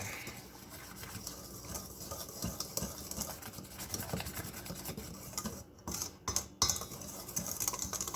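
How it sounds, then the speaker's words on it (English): Dry biscuit ingredients with garlic and onion powder are whisked in a bowl, a quiet, fast scratchy rattle that runs continuously with a few sharper clicks near the end. "we're just going to whisk that together"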